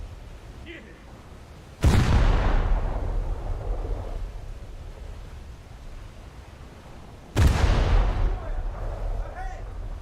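Destroyer naval guns in a naval warfare video game fire two booming salvos several seconds apart, each a sharp loud blast followed by a long rumbling decay.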